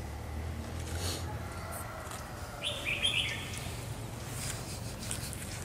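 A wild bird caught in a trap in Vinh Phuc gives a brief cluster of bright chirps in the middle, heard over steady outdoor background noise with faint low rumble.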